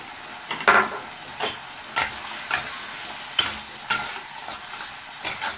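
Fried lentil dumplings tossed into a frying pan of vegetarian gourd ghonto, with repeated spatula scrapes and knocks at an irregular pace over a low sizzle, close and fairly loud, no voices.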